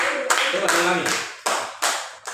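A classroom of students claps for group one during a practice teaching lesson: a dense burst of applause that stops, then returns in shorter bursts while a teacher talks over it.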